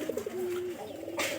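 Pigeon cooing up close, a short run of soft throaty coos followed by a longer drawn coo, faint and alone against quiet background noise.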